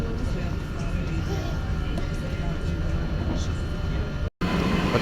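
Inside a moving train on the way to the Milan fair, a steady rumbling roar and rattle fills the space, with a brief dropout near the end and faint talk underneath.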